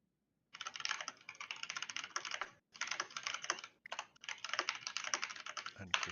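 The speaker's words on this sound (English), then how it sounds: "Chris's keyboard is super loud" Loud computer keyboard typing during a gaming session, rapid clattering keystrokes in three bursts separated by short pauses, close to the microphone with no voices over it.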